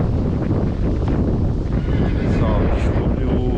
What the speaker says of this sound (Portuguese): desculpe o som aí, porque tá ventando bastante